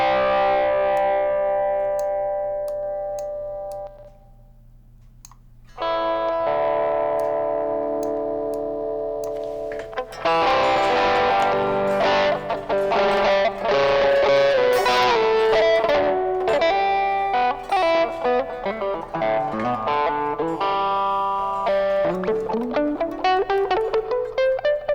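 Electric guitar through the Airwindows PointyGuitar plugin, tuned for a Fender Twin-like tone: a ringing sustained chord fades out, then a brighter passage of picked notes and chords with crisp attacks, clean to lightly driven, played alone.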